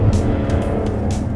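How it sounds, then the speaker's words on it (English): Loud, steady engine roar from a 2015 Jaguar F-Type R in normal mode, heard close from inside or beside the car, a continuous drone with a few brief rasping bursts and no talk over it. "This car makes a bit of noise. And that's not even in sport mode."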